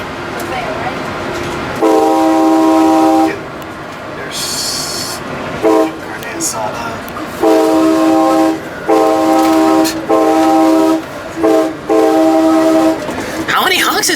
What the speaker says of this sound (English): How many honks is this engineer doing